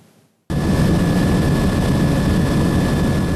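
A helicopter on a 30-minute ride along the coast of Morobe Province, Papua New Guinea, drones loudly and steadily from close range after a sudden onset, with a thick broadband engine and rotor roar.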